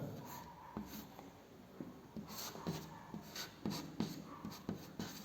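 Pen or chalk writing by hand during a chemistry lesson, heard as soft scratching strokes and small taps in an uneven rhythm, faint and close, with no talking over it.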